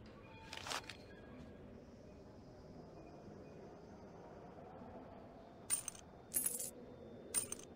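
Cartoon-style coin drop effect in a children's animal train game: a short metallic jingle early on, then three bright clinking bursts near the end over a steady low background hum.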